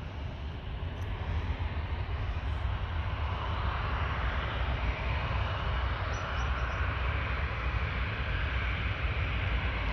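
An Air Caraibes A350-900 taxis towards the runway at Orly, giving off a steady, broad jet roar and whine that holds even and fairly distant throughout.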